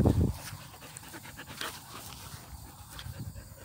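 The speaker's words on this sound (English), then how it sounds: "I need to get these dogs out of my way" Dogs pant rapidly and steadily close by, with a brief louder burst at the start and soft breathy rhythm continuing under faint background noise.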